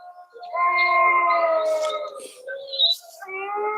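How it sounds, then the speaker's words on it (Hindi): Dogs and jackals howl together at night on a dark roadside, long wavering wails rising and overlapping at moderate distance, with a brief gap before another drawn-out chorus begins. "इस सियार की आवाज भी आ रही है।"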